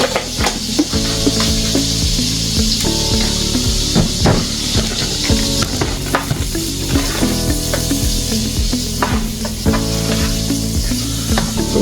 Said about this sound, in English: Getting our butter melted out here right now